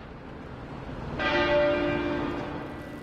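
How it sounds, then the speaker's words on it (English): A single bell stroke from Westminster Abbey rings out in tribute, a clear tone that starts abruptly and decays slowly over a steady outdoor hum, with no voices. "Westminster Abbey's bells ring once every 99 minutes in tribute"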